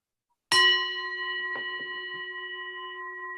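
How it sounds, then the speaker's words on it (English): A single bell is struck once to begin a breathing exercise, giving a bright, clear ring that decays slowly with a long sustained tone, joined by a few faint soft knocks in a quiet room. "So we're going to start at the sound of the bell"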